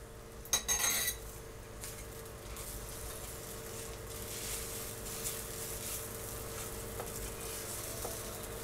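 Egg mixture and parsley being stirred into stuffing in a pan, with a burst of utensil clinks against the pan at the start, then soft, continuous scraping and a faint sizzle underneath.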